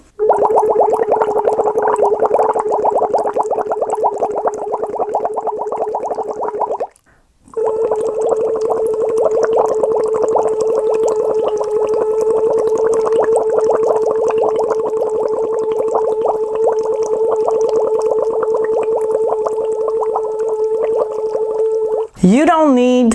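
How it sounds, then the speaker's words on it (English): A steady bubbling buzz comes from someone blowing through a straw into water while voicing a held pitch. It runs continuously with one brief pause, then ends with a short pitch glide. "Choose a pitch, not too high, not too low, and blow bubbles."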